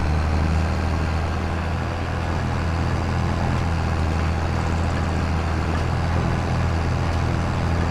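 A tractor engine in Farming Simulator 25 runs at a steady idle, a constant loud low diesel drone with an even hum and no change in pitch, heard close and alone throughout.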